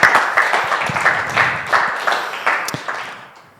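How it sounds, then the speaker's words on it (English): An audience at a 1 Million Cups morning coffee gathering in Rockford gives a full round of applause, dense rhythmic clapping that stays fairly loud and then fades out toward the end. "Let's give them a round of applause."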